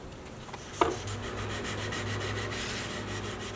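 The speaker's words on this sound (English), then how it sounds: "Now for more sanding." Sandpaper rubs across a thick super glue finish on a handmade guitar, a continuous, fairly quiet rasping stroke that starts after a soft tap and carries on steadily without talking.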